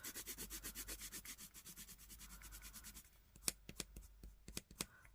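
Pencil coloring a drawing on paper, a fast run of regular scratchy strokes for about three seconds, then a few sparser separate strokes and taps, close and fairly quiet with no talking.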